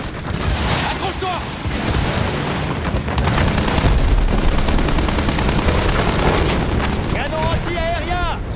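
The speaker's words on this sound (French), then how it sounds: "Canon anti-aérien." Rapid bursts of heavy anti-aircraft gunfire and booms pound continuously in a Battlefield 1 game battle, with whistling shells and voices shouting under the barrage.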